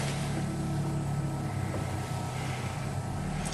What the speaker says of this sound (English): I don't know if you can hear them four-wheelers outside.